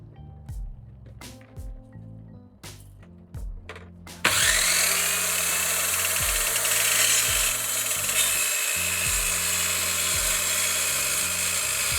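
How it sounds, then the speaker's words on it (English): A few short clicks and taps, then a power drill starts loudly and whirs steadily for several seconds, drilling holes to mount a fridge in a Nissan GQ Patrol rear touring fit-out. "I should actually mount the fridge first, so drill some holes"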